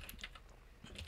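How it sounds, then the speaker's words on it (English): Quiet computer keyboard typing while entering notes in a OneNote table: a few light, scattered key taps, faint and close, with no voices. "as I'm typing, all I'm doing is pressing tab"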